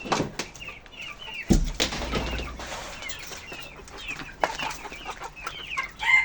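Chickens, among them an Indian breed hen, cluck and squawk in a coop, sharp calls scattered over a steady background with a burst of flapping wings and a scuffle early on; nobody talks.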